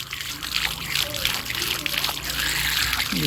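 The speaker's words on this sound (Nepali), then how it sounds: "पानी जोड्नु भएको हो।" Tap water runs steadily over chillies being washed, a continuous close trickle and splash with a few soft clatters throughout.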